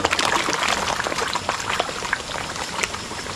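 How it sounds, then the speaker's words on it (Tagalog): Strong spring water rushes and gurgles continuously, loud and close, fed by heavy rain on a rural cattle farm. "Kaya malakas din yung flowing na ating tubig."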